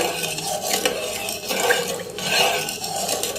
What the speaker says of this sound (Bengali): এখন ডিমটাকে সুন্দর করে মিশিয়ে নিব মানে ডিমের কুসুমটাকে